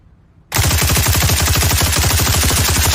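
After a brief quiet moment, a rapid automatic weapon opens up loud and close in the SCP 5k shooter, a steady rattling burst of evenly spaced shots that continues without pause.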